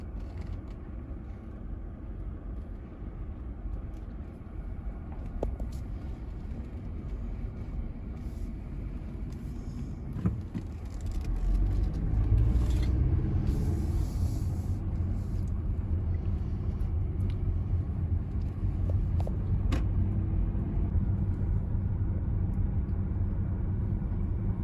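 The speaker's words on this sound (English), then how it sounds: "I'm gonna load the car up, and I'm gonna drive down to the water," A car on a road trip to go fishing, heard from inside as a steady low road rumble that swells louder partway through, with no talking.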